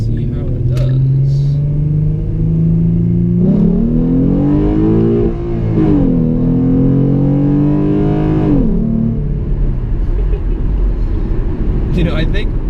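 A tuned 2013 V6 Performance Pack Mustang accelerates hard from a roll, engine note climbing through two gear shifts with a rising harmonic roar, then easing off, with talking in the car.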